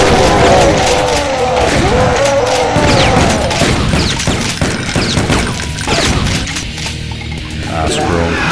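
An exploding barrel is shot in the video game Brutal Doom, giving loud, dense crashes and booms mixed with rapid gunfire that roll on with little pause.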